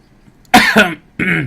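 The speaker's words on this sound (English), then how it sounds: "Little cough there." Two short, sharp coughs close to the mic, with a brief pause between them, in an otherwise quiet moment.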